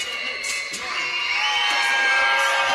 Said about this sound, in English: And the crowd letting them hear it again.